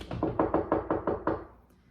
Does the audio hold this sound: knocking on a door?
yes